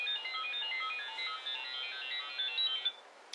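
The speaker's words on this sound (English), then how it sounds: "I have all these alarms on my phone to remind me of things" A phone alarm plays a bright, tinkling melody of quick repeating notes for about three seconds and then cuts off abruptly, fairly quiet, with no speech.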